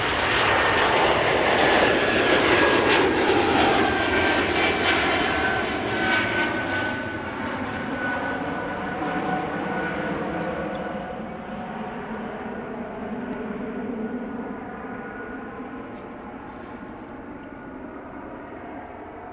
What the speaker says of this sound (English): That was Air Canada flight 233 heading to Vancouver.